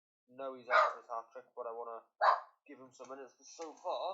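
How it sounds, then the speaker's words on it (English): A pet dog barks indoors in a few short, sharp bursts behind someone talking steadily over a football video game. "sorry if you can hear my dog barking for no apparent reason"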